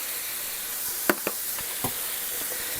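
Bacon, onion and garlic simmering with spices in a pan give a steady soft sizzle, with a few brief clicks and scrapes of stirring over it.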